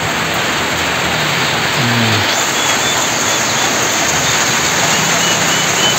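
Steady afternoon rain falls in a dense, even hiss that fills the whole stretch, loud and close, with no talk over it.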